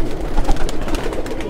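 A white pigeon coos close by in a short, low throaty murmur that lasts briefly, heard alone without talk.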